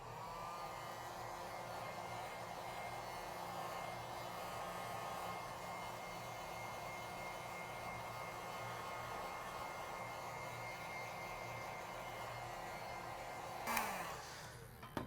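A heat gun blows steadily and continuously while warming the display of an iPhone 6s during a screen replacement, a loud even whoosh that sputters briefly near the end.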